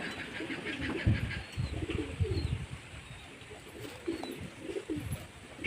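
Pigeons kept at home give soft, low coos with faint flutters and rustling, close but quiet, in short bursts against a hushed background.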